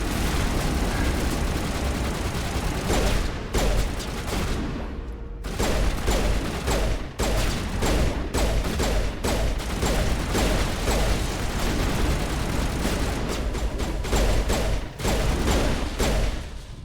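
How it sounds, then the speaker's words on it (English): Rapid volleys of shotgun blasts from Mass Effect, loud and close, come in dense irregular bursts with a brief lull near the middle, over constant game noise. "That's the shotgun, damn it!"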